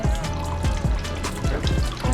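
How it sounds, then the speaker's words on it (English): Water splashes and trickles steadily, as if leaking from a pipe, a close continuous gurgle with small irregular spurts. "Water's coming out. It's leaking here."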